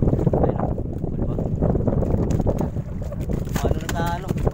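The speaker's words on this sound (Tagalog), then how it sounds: "Lumalakas na yung hangin." Strong wind blowing at sea, a steady, loud roar and rumble buffeting the microphone from near a boat, with a voice speaking briefly toward the end.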